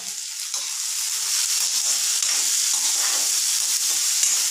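Onions and green gram sauté in a pan with a loud, continuous sizzle and steady scraping of a spatula, close up and without any voices.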